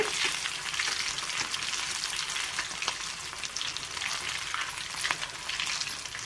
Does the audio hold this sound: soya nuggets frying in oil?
yes